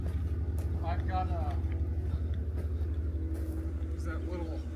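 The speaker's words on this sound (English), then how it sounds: "Why does your truck sound like shit?" A truck engine idles roughly with a low, pulsing rumble and an uneven beat, close and continuous, while people talk over it.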